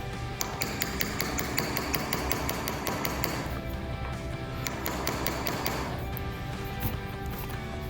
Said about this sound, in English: go back to work with a hammer and a punch